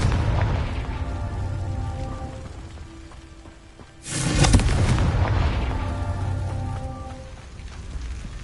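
A Confringo fire spell in Hogwarts Legacy bursts with a loud, sudden explosion midway through, a sharp boom that rolls into a sustained roaring wash over steady game ambience.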